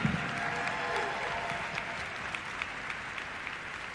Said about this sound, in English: Come on, a big round of applause for Miyavi.